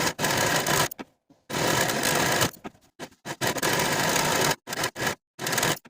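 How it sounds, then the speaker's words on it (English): A serger finishing the raw bottom edges of bodice pieces for a long-sleeved garment runs in loud, close whirring bursts of a second or so, separated by short stops and quick restarts. "You can use your serger or a zigzag stitch."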